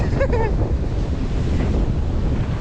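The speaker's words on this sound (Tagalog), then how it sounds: "Lakas ang dagat." Strong sea waves and surf roar continuously at the shore, with heavy wind buffeting the microphone throughout, a brief voice at the start, loud and broadband for the whole stretch.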